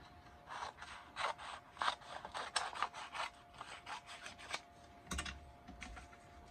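Scissors cutting paper for a scrapbook page layout, a quiet run of crisp rhythmic snips and rasping strokes close by, then a soft thud near the end, with no talk.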